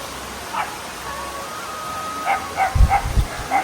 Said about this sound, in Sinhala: තොඩි බල්ලෝ.